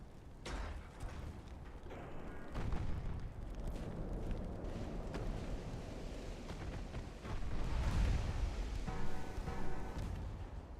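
Warship guns fire during a convoy battle in Ultimate Admiral: Dreadnoughts, giving low, rumbling booms over a steady roar of the sea and the ship. The booms are moderately loud and swell again near the end, with no voices.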